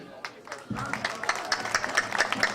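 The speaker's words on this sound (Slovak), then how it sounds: "určite im dobre padne váš veľký potlesk" Audience applause at a pie festival in Slovakia, building from scattered claps into steady, moderate clapping from a crowd, with a voice speaking over it.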